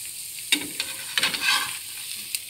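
French toast frying in desi ghee in a pan, a steady soft sizzle with a few sharper crackles and scrapes, close and alone.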